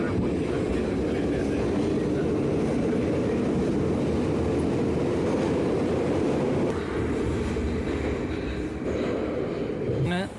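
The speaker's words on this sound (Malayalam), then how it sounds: "ട്രെയിൻ വരുന്നുണ്ട് ഗൈസ്." Russian metro train rumbling steadily and loudly nearby, a continuous low roar and rattle filling the whole stretch with a brief screech near the end.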